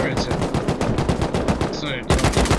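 Turret gunfire in a video game base raid, rapid machine-gun bursts rattling loudly and continuously throughout, with a brief shift near the end and faint voices mixed in.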